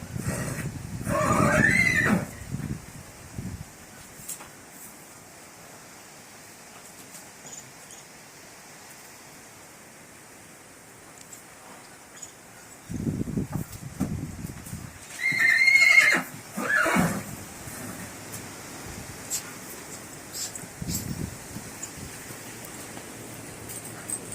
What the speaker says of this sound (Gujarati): આગળ ઘોડો છે